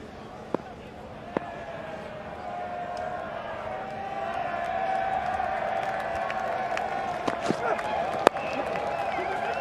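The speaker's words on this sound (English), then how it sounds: "a really nice round of applause for Tim Seifert" A crowd at a T20 cricket match between New Zealand and Sri Lanka applauds batter Tim Seifert, a steady wash of distant clapping and murmur. Commentators talk over it, and a few sharp knocks stand out.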